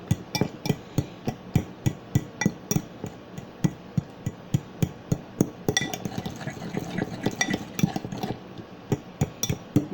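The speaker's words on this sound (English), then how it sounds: "Now I'm just basically stirring it to cream these 2 large bananas." Two large mashed bananas stirred in a bowl, heard as a steady run of close, regular knocks and clinks of a utensil against the bowl, about three per second, with no talking.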